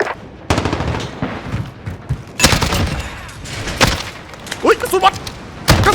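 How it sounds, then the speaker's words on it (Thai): An M870 shotgun in Call of Duty fires several loud, sharp blasts a second or so apart, each followed by brief mechanical clatter, while someone talks over the shots. "กระบอกต่อไปเป็นลูกซองฮะ M870 เป็นลูกซองที่ผมไม่ค่อยได้ใช้เลย"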